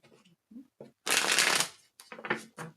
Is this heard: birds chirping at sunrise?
no